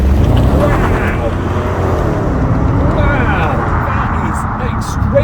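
A BMW 6 Series launching hard in launch mode, its engine note rising in steady sweeps as it accelerates, loud and close throughout, with people talking over it.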